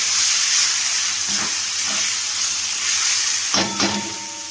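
Cumin and coriander powder sizzle loudly in hot oil in a pan while being stirred, a steady close frying hiss with a few scraping stir strokes near the end.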